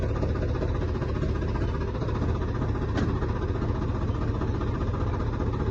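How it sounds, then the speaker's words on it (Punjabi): A steady tractor engine idles close by, a continuous low rumble with even vibration throughout and no voices. "ਕੱਢ ਲਿਆ ਆਪਾਂ ਟਰੈਕਟਰ ਬਾਹਰ"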